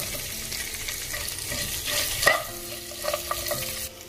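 Chopped onions sizzle in hot frying oil while being stirred for mutton biryani, a steady close crackle with scraping spoon strokes and a sharper clatter midway.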